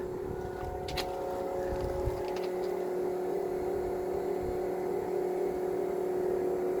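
Lovol P4110 tractor working a Lemken plough in muddy, rain-soaked fields, a steady droning engine hum with a constant tonal whine, mid-distance and even throughout, a few brief clanks early on.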